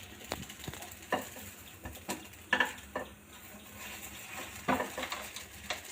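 Bread frying in a little hot oil in a pan, with a soft sizzle running underneath and scattered scraping clinks of stirring or turning that come in irregular bursts, close by.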